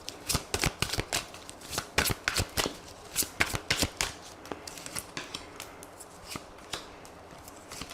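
Tarot cards are shuffled by hand in a quiet room, a rapid run of crisp riffling flicks and slaps that slows and softens toward the end, with no voices.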